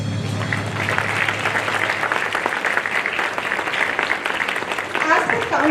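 An audience at a school investiture ceremony claps in a continuous dense patter, fairly loud and close, with a voice briefly speaking near the end.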